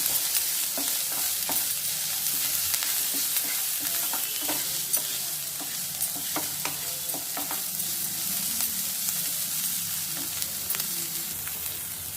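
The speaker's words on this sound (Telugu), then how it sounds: "దీంట్లో ఈ ఆనియన్స్ సరిపోయేంత కొద్దిగా సాల్ట్ వేసుకోవాలి. వేసి కొంచెంసేపు కలుపుకోవాలి." Onions with salt stirred in a frying pan for Gobi Manchurian, a steady sizzle with repeated light scraping and tapping of the spoon against the pan, close and continuous with no talking.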